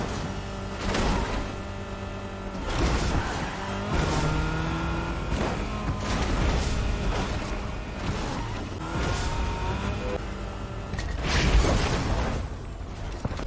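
A car in the Fortnite video game drives upside down, its engine droning and revving in shifting tones with clunks and bumps, steady and fairly loud throughout with no talk.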